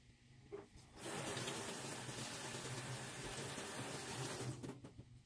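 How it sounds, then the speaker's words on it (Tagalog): Boiling water gushes loudly and steadily into a pot for several seconds, a continuous splashing pour that starts abruptly and cuts off near the end. "Lagyan natin ang kumukulong tubig."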